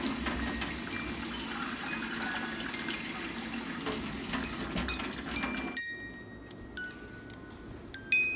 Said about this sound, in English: Just pour the whole cup of water in.